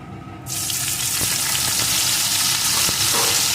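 Chopped onion hits hot oil in a pan and bursts into a loud, dense sizzle that holds steady, with a few light stirring scrapes, close up and without speech.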